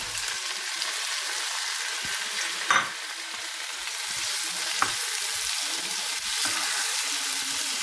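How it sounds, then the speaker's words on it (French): Tomatoes go into a pan of golden fried onions for shakshuka, giving a steady hissing sizzle with a couple of brief clacks from a spoon, close and even, with no voices. "Alors, les oignons ils sont bien dorés. Je vais mettre mes tomates."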